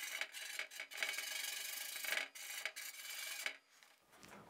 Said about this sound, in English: let's try to get this old grease off, huh? Oh yeah, that's scratching it up nice.